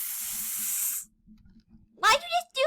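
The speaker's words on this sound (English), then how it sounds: "He just sprayed that man who was following us in the eyes." A short hissing blast of spray aimed into a man's eyes, a sharp one-second burst that cuts off, followed by brief voices speaking nearby.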